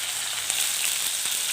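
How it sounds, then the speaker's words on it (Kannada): Onions and green chillies sizzling in hot oil, a bright, even hiss close up with a couple of small pops, continuous over the short stretch and free of talk. "ಇವಾಗ ಇದಕ್ಕೆ ನಾನು ಆನಿಯನ್ ಹಾಕ್ತಾಯಿದ್ದೀನಿ."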